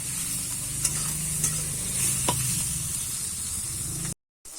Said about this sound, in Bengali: দিয়ে আমি মশলাগুলো একটু ভালো করে ভেজে নেব